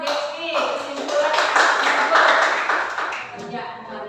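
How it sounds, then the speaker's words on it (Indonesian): Classroom applause for a student named Devi during a teaching practice lesson, a dense patter of clapping from a group of pupils that swells and fades over several seconds, with some voices mixed in. "Tepuk tangan buat Devi"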